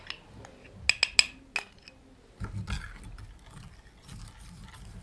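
A spoon stirs borax and lemon juice in a small container, giving a quick run of sharp clinks and taps near the start, then softer scraping and knocking that fades to quiet.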